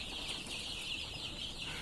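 Eight-day-old chicks in a brooder during very hot weather chirp and cluck in a dense, continuous high-pitched chorus, fairly faint with no voices.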